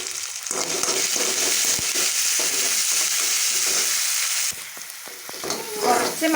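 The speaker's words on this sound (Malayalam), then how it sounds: "ബീട്രൂട്ട് കുറച്ച് മുറിച്ച് വെച്ചിട്ടുണ്ട് കേട്ടോ അപ്പോൾ അതൊന്ന് പെട്ടെന്നൊന്ന് ഉപ്പേരിയാക്കി എടുക്കട്ടെ" Grated beetroot with turmeric hisses loudly in a hot pan while being stir-fried into upperi, a dense continuous sizzle with scraping strokes of a spatula, easing briefly before resuming.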